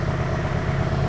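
A 2024 Ducati Streetfighter V4 idling in neutral through a full titanium Akrapovic exhaust, a steady, close, low rumbling throb with no change in pitch over the brief moment.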